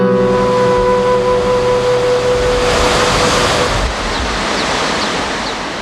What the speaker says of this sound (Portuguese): Esta cachoeira do rio Arrudas